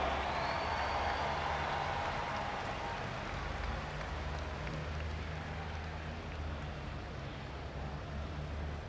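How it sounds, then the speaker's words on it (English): Audience in Freedom Hall applauding at a Super Stock tractor pull, a broad hiss of clapping that stays even and fades slightly toward the end over a low engine hum. "Let's give him a nice round of applause."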